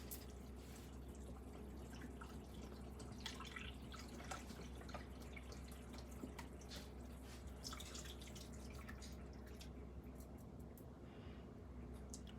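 Unsalted chicken broth is poured from a carton into a cooking pot for a low-sodium dipping sauce, a steady liquid stream with dripping and splashing that runs throughout at moderate level, with a low hum underneath.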